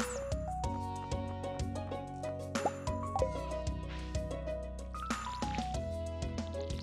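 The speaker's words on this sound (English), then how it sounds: "Okay, we need to water our crops." Watering crops with a watering can in a cozy farming video game, with soft squishy drips and trickling water splashes layered over a steady, bright background of game music throughout.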